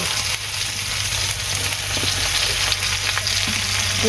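Okra fries in a pan with an even, close-up sizzle and crackle that holds steady from start to finish, with faint scraping hints of stirring.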